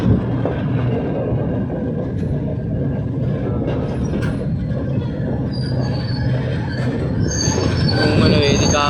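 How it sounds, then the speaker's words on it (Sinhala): A train pulls into Ragama Junction station in Sri Lanka, its wheels squealing steadily under a continuous rumble of carriages, with the shrill screech growing louder near the end. "දැන් අපි රාගම හන්දිය දුම්රිය ස්ථානයේ වෙතට ආවා."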